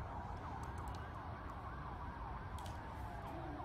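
Ambulance sirens wail continuously at a distance after an explosion in Ankara, pitch sweeping up and down beneath a constant roar of traffic and wind.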